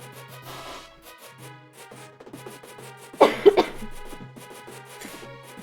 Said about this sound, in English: I have the sniffles and I keep coughing.